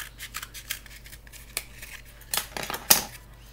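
Scissors snipping a cardboard paper towel roll, a string of short crisp cuts and scrapes close by, growing sharper toward the end, with no talking.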